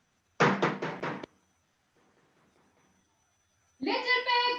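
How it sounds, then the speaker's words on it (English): Knocks on a straw house door in a puppet story come as four quick, close raps in a burst. After a near-silent pause, a voice starts speaking. "he knocked on the straw house"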